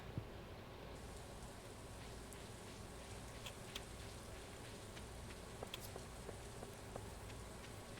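Rain patters steadily in a video game, a soft even hiss with faint scattered drops, alone and quiet throughout.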